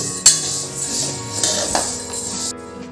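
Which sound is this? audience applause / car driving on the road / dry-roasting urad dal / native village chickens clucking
dry-roasting urad dal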